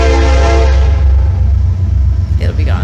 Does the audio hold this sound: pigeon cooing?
no